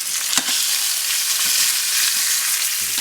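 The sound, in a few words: pork chops sizzling in frying pan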